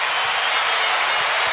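A packed basketball arena crowd roars in a sustained ovation after a Michael Jordan basket in a 1995 Bulls vs Hawks game, a dense, steady wall of cheering and clapping close around.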